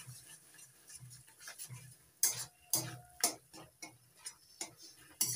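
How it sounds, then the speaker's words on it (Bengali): Ground coriander leaves being stirred into a bean mash, heard as quiet, irregular clicks and scrapes of a utensil against a bowl. "এবার দিয়ে দিচ্ছি বেটে নেওয়া ধনে পাতা, ভালো করে মিশিয়ে নিচ্ছি সবকিছুর সঙ্গে"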